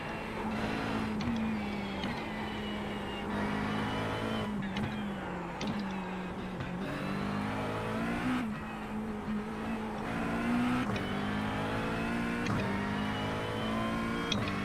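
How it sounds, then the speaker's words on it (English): A Fiat Multipla's engine drones steadily as the car laps the Nordschleife in a racing video game, its pitch rising and falling with shifts and revs. The engine stays constant and moderately loud for the whole stretch. "I'm happy to drive a multipla around the Nordschleife"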